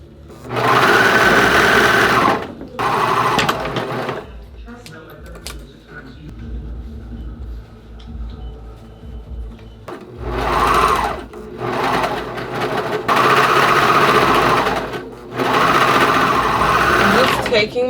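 A sewing machine stitches fabric for a cow print bedroom bench in several loud bursts of rapid whirring, separated by quiet pauses with soft handling noise.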